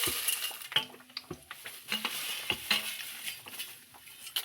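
Chana dal, urad dal and peanuts frying in a pan, with repeated spoon stirs and light metallic clinks over a soft sizzle, close and fairly quiet.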